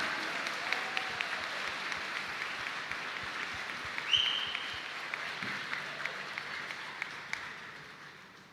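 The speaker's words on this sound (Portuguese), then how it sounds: "reage uma salva de palmas" A church congregation at a Catholic Mass for the Ascension gives a round of applause, a fairly distant, steady wash of clapping with occasional crisp individual claps over about eight seconds.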